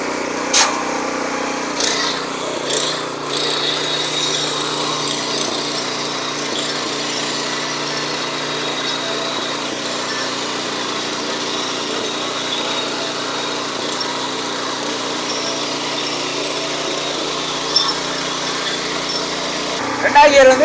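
A Kirloskar 7hp petrol power weeder runs in slow gear on a farm, its small engine giving a steady, loud, unbroken drone with a few brief knocks and rattles over twenty seconds.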